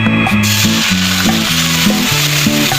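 Chicken skin frying in a small amount of oil to render chicken oil, with a steady close sizzle and crackle and a repeating low tonal pattern running through it, no voices.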